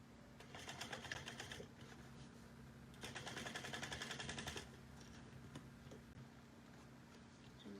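A sewing machine top stitches a vinyl-lined bucket bag at an eighth of an inch, running in two steady bursts of fast rattling stitches over a constant low motor hum, with pauses between runs.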